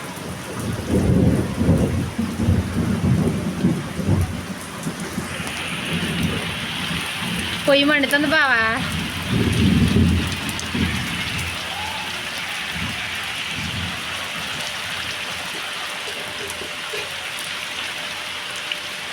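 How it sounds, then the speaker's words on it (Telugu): Heavy rain pours steadily while thunder rumbles through the first half; someone speaks briefly over it, and a short warbling tone cuts in midway. "పెద్ద వర్షం అయితే వచ్చేస్తుంది మాకు"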